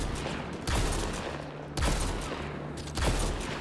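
Bursts of rapid gunfire crack out three times over a steady rumbling background, sharp and loud, like weapons firing in a battle in the game Mass Effect Andromeda.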